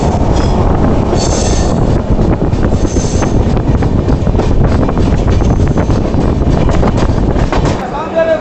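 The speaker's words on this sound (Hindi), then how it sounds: "WP7 लोकोमोटिव कानपुर शेड का।" An Indian Railways WP7 locomotive from the Kanpur shed hauls a train at Ahmedabad station, a loud continuous rumble of rolling wheels with some squealing and wind buffeting the microphone throughout.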